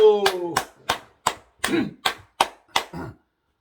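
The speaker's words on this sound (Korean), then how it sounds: "박수" A church congregation claps together in unison after a prayer, about eight sharp, evenly spaced claps on a steady beat, with a short voice heard at the very start.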